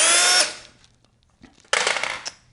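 A power drill bores a clean, perfect hole through wood in two loud, close bursts of high whine, separated by a short near-silent pause.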